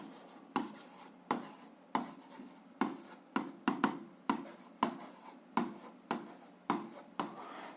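Hand-writing a formula for a 7th-grade algebra exercise, a series of short scratchy strokes of pen or chalk in an uneven rhythm, about a dozen close bursts separated by brief pauses.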